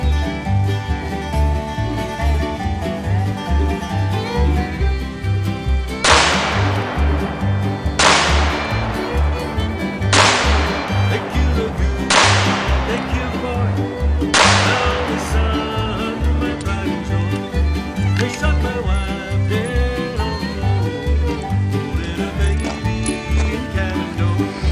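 Five sharp, loud gunshots from a .357 Smith & Wesson J-frame revolver with a 3-inch barrel firing hollow-point rounds, spaced about two seconds apart outdoors in the woods over a steady background of music.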